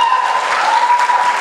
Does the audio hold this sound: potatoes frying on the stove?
no